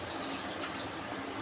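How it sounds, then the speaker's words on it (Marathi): Water poured into a pot of simmering curry made with boiled mini potatoes, a steady, close, broadband rush lasting about a second and a half, with no talking. "थोडंसं पाणी घालू आपण"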